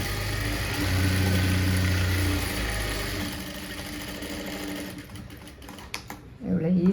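A sewing machine runs close by stitching the front panel of a blouse, a fast steady whirring for about three seconds before stopping, followed by quieter handling sounds and a brief voice near the end.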